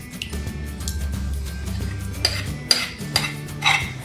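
Cake batter for an orange and dates loaf being mixed in a bowl, a spoon scraping and clinking against the sides in an uneven rhythm, with a low rumble underneath and a few sharper knocks toward the end.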